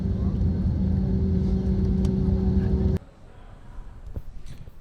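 An Aegean Air airliner braking on the runway after landing at Rhodes: a loud, steady cabin roar with humming tones that lasts about three seconds, then drops abruptly to a quieter background rumble.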